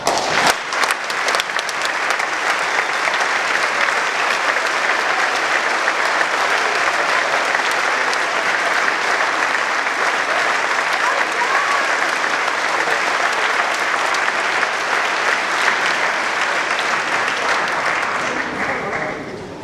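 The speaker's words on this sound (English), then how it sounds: "ask them to stand up for a round of applause" Sustained audience applause at a 2014 military school commencement, a loud, dense wash of clapping from a large crowd honoring veterans, steady for about twenty seconds before tapering slightly at the end.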